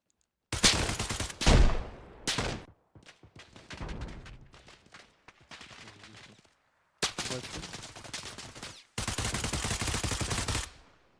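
M60 machine gun fire in the game Arma Reforger: loud bursts of automatic shots in several separate volleys, with short gaps between them and rattling fire at moderate distance in between.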